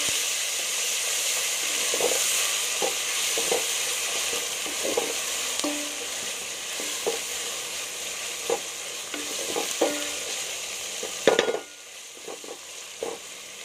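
Garlic and ginger paste with green chilli paste fries in a hot pan for mater gosht, a peas and chicken curry, giving a steady loud sizzle broken by frequent spoon scrapes and stirring knocks.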